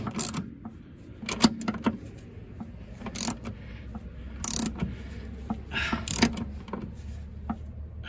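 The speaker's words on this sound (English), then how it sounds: "that's tightening up the upper ball joint" Wrench clicks and ratcheting taps while tightening the upper ball joint on a Mercedes W126, with short irregular metallic bursts over a quiet workshop background, close by and moderately loud.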